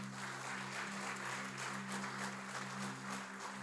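A church congregation claps during a Christmas service, a steady, faint patter of applause over a sustained low organ-like drone.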